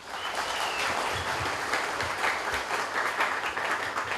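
Sustained applause from a gathered crowd at a university vice-chancellor handover ceremony, dense steady clapping filling the room at even loudness throughout.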